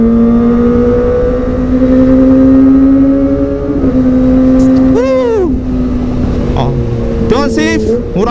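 A Kawasaki ZX-25R with a Prospeed exhaust screams at high revs with a loud, sustained wail. Quick rising and falling throttle blips and downshifts break the tone near the end.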